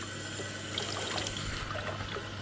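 Vegetables from a farm garden being swished and rinsed in a sink of water, gentle trickling and splashing close by over a low steady hum.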